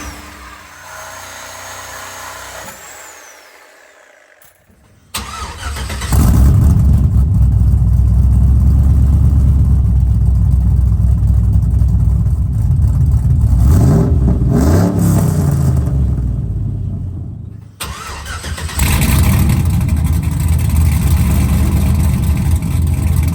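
Cammed truck engine with straight-pipe exhaust and no mufflers, fitted with an X pipe, idling briefly before roaring into loud, sustained revs with a short dip and a second hard rev, close and raw.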